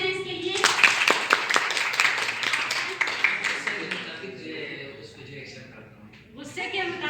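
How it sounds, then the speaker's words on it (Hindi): A group at an indoor training session claps hands together in a fast, dense burst of applause that fades after a few seconds, with talk following. "ताली हो जाए इसके लिए।"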